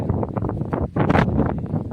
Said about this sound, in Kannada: ಗಾಳಿ ಸಿಕ್ಕಾಪಟ್ಟೆ ಗಾಳಿ